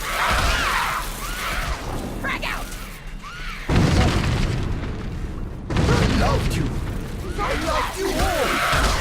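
Grenade explosions in the first-person shooter Clive Barker's Jericho, two heavy booming blasts about two seconds apart amid busy combat noise, with voices and battle chatter running through.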